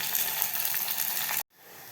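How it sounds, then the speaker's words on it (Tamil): Onions sizzle and crackle steadily in a hot pan for Tamil-style kuzhambu, a dense bright frying hiss that cuts off abruptly near the end, leaving only faint low background. "வெங்காயம் எல்லாம் பார்த்திங்கன்னா நல்லா வதங்கிருச்சு"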